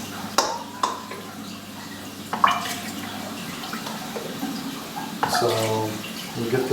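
Kalkwasser mixture is poured into water, giving soft splashing and trickling with a few sharp drips and clinks, fairly quiet and close.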